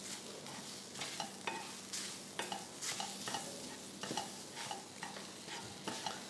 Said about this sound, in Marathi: कसुरी मेथीची पावडर, हळद, तिखट हे सुद्धा व्यवस्थित परतून घेऊ।